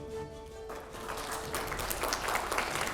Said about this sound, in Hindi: थोड़ा जोरदार तालियों के साथ में।